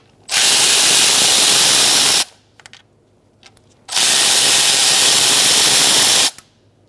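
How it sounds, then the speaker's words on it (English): A power tool whirs loudly in two long sustained bursts while bolts and nuts come off a 2002-2006 Toyota Camry valve cover, with small metallic clicks and handling noises in the gap between. "Continue taking out the bolts. And nuts."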